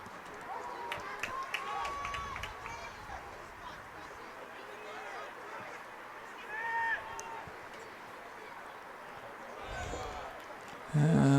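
Crowd of students at a Portland versus Gorham high school boys' varsity soccer quarterfinal, a steady distant murmur of many voices with occasional louder swells and a burst of noise near the end, with voices speaking over it.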